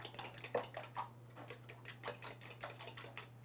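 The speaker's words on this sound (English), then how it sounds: "let's mix up our fresh vanilla bean and our orange juice" Vanilla bean and orange juice being whisked together in a bowl, a quick run of light metallic clinks and taps in a steady ticking rhythm, close and fairly quiet over a low hum.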